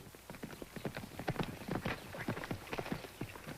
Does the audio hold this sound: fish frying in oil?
no